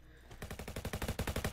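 MP5K submachine gun fire in Roblox Modern Warfare: a rapid burst of evenly spaced shots starts abruptly after a quiet moment and runs steadily to the end, loud and close.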